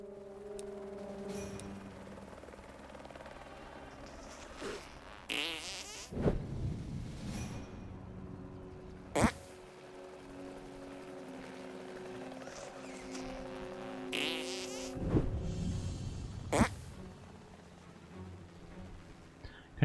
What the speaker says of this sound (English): Control the fart.